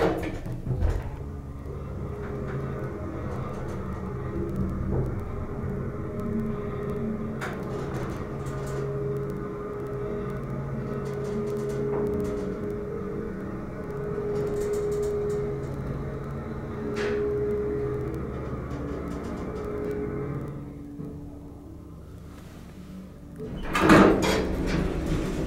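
A vintage 1964 Dover hydraulic elevator's motor runs with a steady low hum and drone inside the car, with faint clunks and creaks along the way and a louder knock near the end as it stops.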